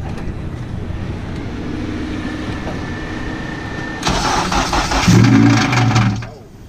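A car engine with a broken connecting rod cranks and fires: steady background hum, then a loud starter whir and a rough, knocking start that runs briefly before cutting off.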